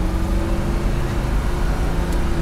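1969 COPO Camaro replica with a 427 V8 and carburetor, heard from inside while driving, a loud steady low engine drone with road rumble and no talk.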